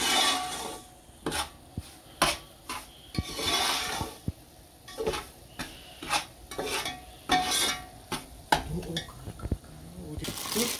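Semolina being stirred and roasted in a pan for sooji halwa, giving repeated scraping strokes of a spoon against the metal with a light sizzle between them, close and fairly quiet.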